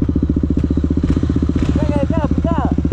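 A Honda CB300 motorcycle engine drones loud and close while being ridden, with a steady rapid pulsing throb throughout and a few brief high chirps near the end.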